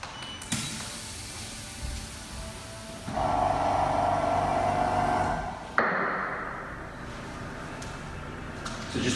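A Power Plate vibration training machine runs close by in a gym with a steady mid-pitched motor hum that starts partway through, holds for a few seconds, then shifts to a lower drone after a sharp knock.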